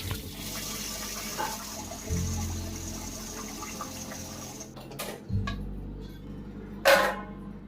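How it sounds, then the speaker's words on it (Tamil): Soaked urad dal and raw rice are rinsed in water: running and splashing water with sloshing swirls, close and moderately loud, with a few sharper splashes and pauses near the end. "நல்லா ரெண்டு வாட்டி கலைஞ்சி அலசி எடுத்துட்டு தண்ணி ஊற்றிட்டு ஊற வச்சிடலாம்"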